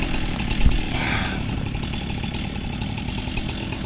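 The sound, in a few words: chainsaw running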